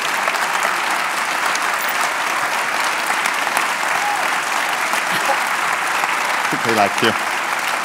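A full theatre audience applauding at the National Theatre, with dense, steady clapping filling the hall throughout and a voice speaking briefly over it near the end.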